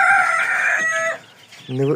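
A downy-breed chicken clucks and calls in drawn-out, nasal tones close by, with a brief pause before another short cluck.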